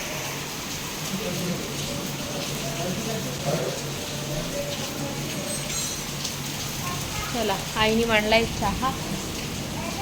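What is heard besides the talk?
rain falling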